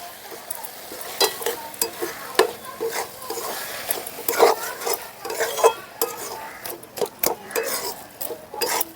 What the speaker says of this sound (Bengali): এখন নাড়াচাড়া করে মিশিয়ে নেব।